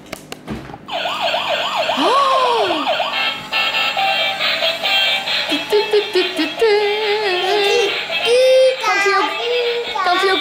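A toy fire truck siren wails in rising and falling electronic sweeps, loud and close, running almost continuously with warbling tones throughout a cozy home scene.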